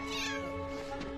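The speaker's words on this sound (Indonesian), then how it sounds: "Bob melihat Nora yang terus memanggil kucingnya agar turun." A cat meows in a film scene, one drawn-out, tonal meow that rises and falls, fairly close and clear, with a brief softer tail at the end.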